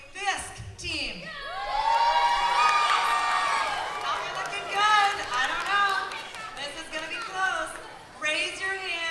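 A trivia bee audience cheers and whoops for a Fisk team, a loud crowd roar with shouts building quickly and holding for several seconds before easing off.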